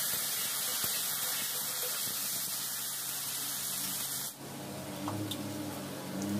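Boiled papaya pieces dropped into hot oil with dried chilli, bay leaf and five-spice, giving a steady soft sizzling hiss that shifts and settles after a few seconds.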